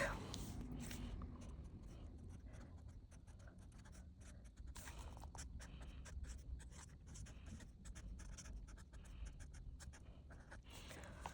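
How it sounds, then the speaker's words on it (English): A black Tombow pen scratches softly across paper in short, quiet strokes, close and faint against a low background hiss. "I'm just going to start writing this in my Tombow, in my black"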